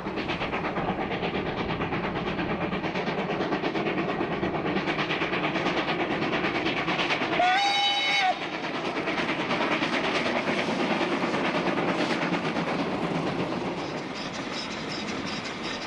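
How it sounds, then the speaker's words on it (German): A steam locomotive works through a winter landscape, its chuffing and rolling clatter continuous and loud, with a sharp whistle blast cutting in about halfway through. "Was gibt es Schöneres, als eine Dampflokomotive im Winter arbeiten zu sehen? Ein Genuss für Augen und Ohren."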